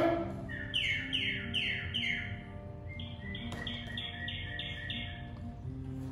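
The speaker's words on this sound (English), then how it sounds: "native plants attract native birds like the cedar waxwing, American robin, and the northern cardinal" Native songbirds such as cedar waxwing, American robin and northern cardinal sing in clear repeated chirping phrases, with a series of descending whistled notes followed by steady rhythmic calls, fairly close, without any voices.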